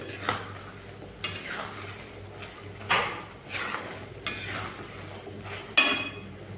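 Bottle gourd and lentils are sautéed in a pan, giving a soft sizzle under repeated scraping and knocking strokes of a spoon against the pan.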